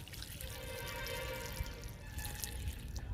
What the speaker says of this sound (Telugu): వాటరు డబ్బాలో పోస్తున్నా.